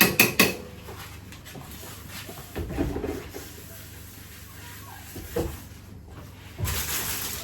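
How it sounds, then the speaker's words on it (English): A knife chopping bread on a kitchen board, a few sharp knocks at the start followed by scattered thuds and clatter between quieter stretches, all close by. "I'm going to chop the bread"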